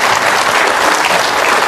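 A studio audience breaks into loud, dense applause at a television talk show, sustained clapping filling the whole short stretch without any talking.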